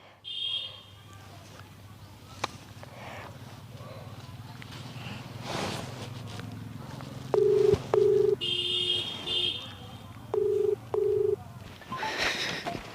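Several short electronic phone keypad dialing tones beep in two quick pairs, with a faint voice and room noise between them.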